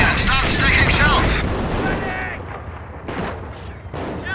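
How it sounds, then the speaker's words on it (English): A locked-down Panzer tank in Company of Heroes fires in quick succession, sharp blasts repeating over a second or two then thinning out, mixed with battle noise while a voice speaks. "The Panzer is able to fire more quickly."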